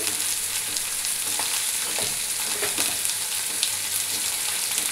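Chopped banana flower fries in hot oil, a loud, continuous crackling sizzle close up with occasional light stirring scrapes, and no voices.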